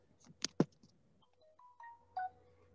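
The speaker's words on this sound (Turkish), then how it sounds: "Benim telefonum çalıyor." A mobile phone rings with a short melodic ringtone of a few clear electronic notes, faint in a quiet classroom, preceded by a few soft clicks and taps.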